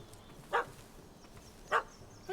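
A puppy in The Witcher 3: Wild Hunt gives two short, sharp barks about a second apart, moderately close, over quiet game ambience, with a third beginning at the very end.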